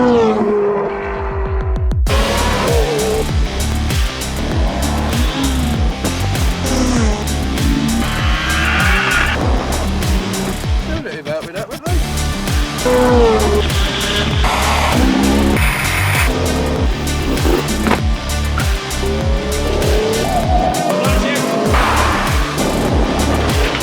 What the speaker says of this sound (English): I'm in the NSX today, not driven it for a little while, so keen to stretch its legs